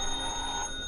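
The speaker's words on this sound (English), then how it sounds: "The phone rang all day long, but I didn't answer it until late in the afternoon." A telephone rings as a sound effect in a vintage radio suspense drama, one short electric bell burst heard alone at moderate volume.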